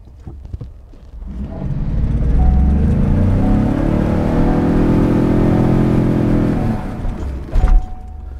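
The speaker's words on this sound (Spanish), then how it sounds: "Le voy a pisar el acelerador fuerte para que vean cómo se entierra la camioneta." A 4x4 pickup truck is floored in sand, its engine rising into a long, loud, sustained revving roar as the wheels dig in, then dropping back to idle, with a brief thump near the end.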